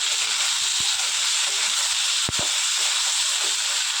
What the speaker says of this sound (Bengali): ভালো করে মশলাটা কষাতে থাকবো।